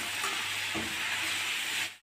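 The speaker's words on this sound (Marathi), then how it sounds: "पेस्ट परतून झालेली आहे।" Spice paste sautéing in a pan for a Maharashtrian drumstick curry, a steady close sizzle and hiss with a brief stir or scrape in the middle, which cuts off abruptly into silence.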